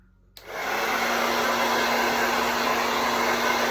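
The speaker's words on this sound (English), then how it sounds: "Lowest setting with the blow dryer." A hair dryer on its lowest setting clicks on and blows with a steady, even whoosh and a low hum, continuous and close for a few seconds.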